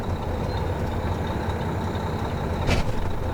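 A tractor truck with released parking brakes backs slowly under a trailer, its engine giving a steady diesel rumble, with a brief hiss of air near the end and no talking.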